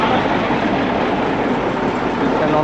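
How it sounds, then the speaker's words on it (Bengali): A diesel-hauled Darjeeling toy train on the New Jalpaiguri to Darjeeling line gives a loud, unbroken, rumbling roar that stays even throughout, heard up close. "টয় ট্রেন ইঞ্জিন ডিজেলে চলে এখন"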